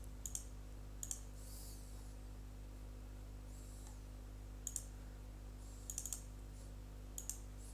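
An AutoCAD command typed on a computer keyboard makes a few faint, sparse clusters of key clicks over a steady low electrical hum in a quiet room.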